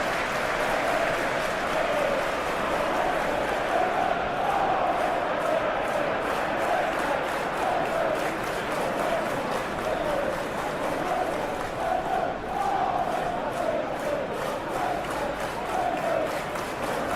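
A capacity stadium crowd in the PES 21 football game keeps up a constant roar of applause and chanting. It swells and eases slightly and runs on and on, with commentary voices speaking over it.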